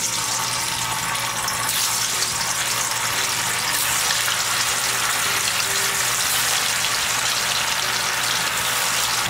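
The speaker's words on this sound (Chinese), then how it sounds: "转中火炸3分钟。" Tofu pieces deep-frying in 180-degree oil over medium heat, a steady, dense crackling hiss with no spattering, continuous and close throughout.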